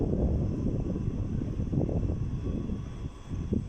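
A Class 334 electric train departing a station for Helensburgh Central gives a steady, broad rumble that holds throughout at moderate loudness, with no voices.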